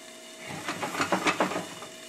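Broccoli in a covered pan that is frying and steaming at once gives a brief, close hiss and sizzle that swells in a few pulsing bursts over about two seconds, with no talking.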